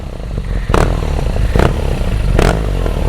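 Loud, close rumble of a Boss Hoss motorcycle engine while riding, a deep continuous throb with three short sharp bursts of clatter or throttle surges across the ride.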